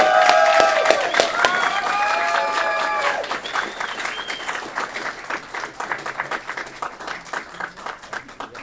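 At an Aurora city committee meeting, a room of people breaks into sustained applause with some cheering for the parade Grand Marshal. A voice speaks at the start, then the clapping rolls on steadily and gradually thins.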